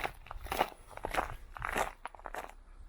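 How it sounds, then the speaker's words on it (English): Footsteps crunch over ice and snow on a winter walk around Oughtibridge, Sheffield, each close step a sharp crackling crunch in a steady walking rhythm. "Certainly crunching of ice under my feet anyway."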